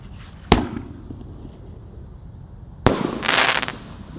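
A Raja Wali Jumbo firework goes off outdoors with two sharp, loud bursts a couple of seconds apart, the second followed by a crackling, fizzing tail and no talking.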